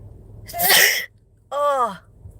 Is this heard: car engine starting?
no